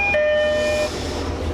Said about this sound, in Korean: 방금 이 열차가 들어오면서 여기 이렇게 1항짜리 열차가 들어왔는데